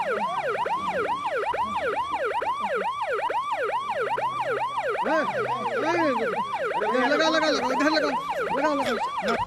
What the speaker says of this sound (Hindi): एम्बुलेंस आ गया भैया।